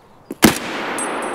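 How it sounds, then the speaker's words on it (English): A single sharp gunshot in Escape from Tarkov cracks out loud and close after a faint preceding click, followed by a lingering noisy tail. "I'm gonna shoot him in the head"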